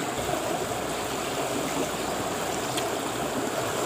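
A river flowing steadily, a dense, continuous rush of water at close range with no pauses and no voices.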